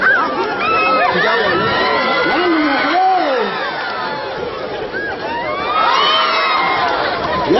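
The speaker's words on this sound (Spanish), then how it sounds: "¡Aplausos para la torera de Olga!" A crowd at a jaripeo cheers and shouts loudly and continuously, with excited whoops and children's voices rising above the roar.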